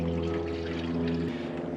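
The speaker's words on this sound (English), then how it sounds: "I am putting coolant in a 94-year-old Ford." Coolant pours steadily into the radiator of an abandoned 1931 Ford Model A, a continuous close liquid stream with a low steady hum beneath, no voices.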